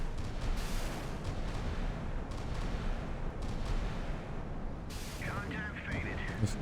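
Missile interceptions in the naval combat game Sea Power, heard as a dense, continuous rumble of overlapping blasts and booming bursts that keeps rolling, with brighter crackling detonations breaking through near the end.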